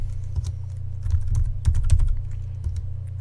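Someone types a password on a computer keyboard, producing a short run of close, distinct key clicks over a steady low hum.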